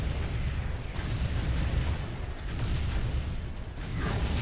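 Graviton cannon fire in the Dawn of War real-time strategy game, a dense continuous wash of rumbling blasts and explosions amid battle noise, loud and sustained throughout with no clear separate shots.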